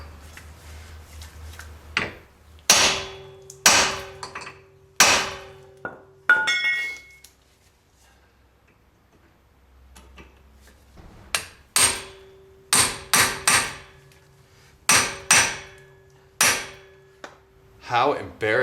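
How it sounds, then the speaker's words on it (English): Hammer striking a screwdriver on a stuck brake rotor retaining screw, in bursts of close, loud metallic blows with ringing clinks, a quiet pause midway, then a quicker run of strikes. "This one feels like it needs some more hammering."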